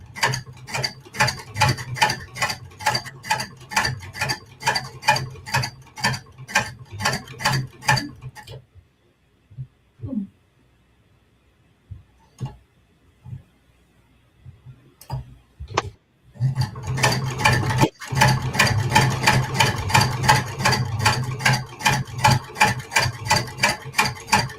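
An old hand-crank sewing machine stitching green thread, its mechanism ticking in a fast, steady rhythm for several seconds, pausing with a few scattered clicks, then resuming at a brisk, even pace.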